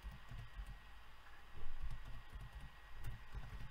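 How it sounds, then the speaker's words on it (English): Quiet typing on a computer keyboard while entering text into a blog settings field, a steady run of soft key clicks with a few firmer taps, close and alone with no talk. "And I type Zibah"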